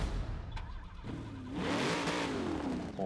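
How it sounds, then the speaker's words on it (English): A 2020 Chevrolet C8 Corvette revs hard close by, the engine note climbing and swelling loudly from about the midpoint and holding strong to the end, with no talking. "Let's hear the car."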